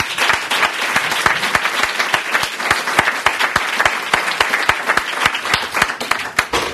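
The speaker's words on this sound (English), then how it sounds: "I'd like to ask for you to give a round of applause to both of them." A debate audience gives loud, close applause for two speakers, Mr. Hussain and Mr. Green. Dense overlapping claps with sharp individual hand strikes keep a steady roar throughout.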